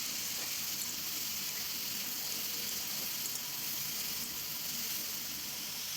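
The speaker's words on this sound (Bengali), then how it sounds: "আর দিয়ে দিলাম সামান্য একটু পেঁয়াজ" Chopped onion fries in oil with eggplant and bitter gourd, making a soft, steady sizzling hiss at low volume with no talking.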